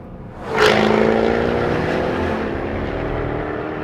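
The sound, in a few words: Jaguar F-type coupé exhaust in noisy mode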